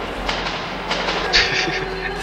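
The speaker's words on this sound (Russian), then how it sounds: "Призрачный поезд." A ghost train rushes through a tunnel in the game Metro 2033, a loud continuous rumbling roar with rattling and a brief screech, while a voice talks over it.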